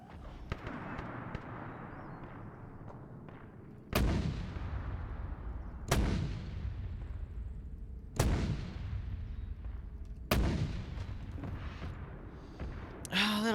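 Mortar fire in a Warhammer 40K video game: four sharp, heavy booms spaced about two seconds apart, each decaying slowly over a constant rumbling battlefield backdrop.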